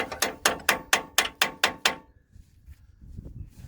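A socket wrench ratchets on a ball joint nut on a Great Wall Steed, giving eight loud, evenly spaced clicking strokes up close, then quieter fumbling metal sounds.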